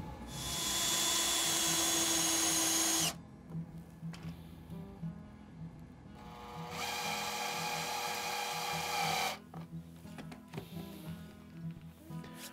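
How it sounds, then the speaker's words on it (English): A power drill drives long screws through a rustic forged coat rack into the wall studs, in two long whirring runs separated by quieter handling knocks. "That'll go all the way through the coat rack and screw directly into the studs on the wall."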